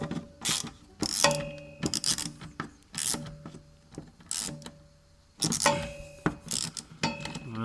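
A ratchet wrench cranks a 13 mm seat bolt loose under a Renault Twingo in bursts of quick clicking strokes with brief pauses between, close and moderately loud, with some metallic rubbing and no voices.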